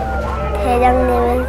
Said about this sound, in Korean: 사이렌을 울리고